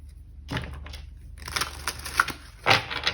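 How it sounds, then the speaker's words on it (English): Tarot cards being shuffled in a few quick papery riffles and slaps at close range, bursts spaced irregularly over a faint steady hum, with no voices. "Okay, I think we need to shuffle again."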